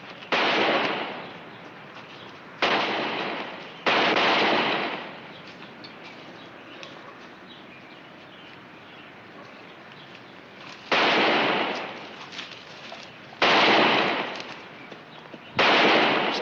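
Real gunshots fired in a western, several loud sharp bursts with ringing decays, spaced irregularly apart with quieter gaps between them.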